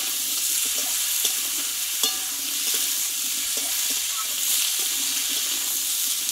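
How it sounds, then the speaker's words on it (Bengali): Chopped ash gourd stir-fries in hot oil in a pan, giving a steady close sizzle with a few light clinks of a stirring utensil scattered through. "এই তেলে এখানে কেটে ধুয়ে রাখা আমি চাল কুমড়োটা একটু কষে নেব।"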